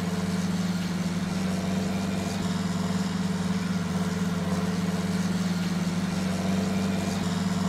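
A tractor engine runs steadily in Farming Simulator 19, a continuous loud low drone with a constant hum and no change in pitch, heard alone without talk.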